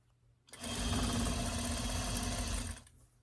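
A sewing machine runs in one short burst of rapid, even stitching on a bumble bee costume dress, close and fairly loud, starting and stopping cleanly against a quiet room.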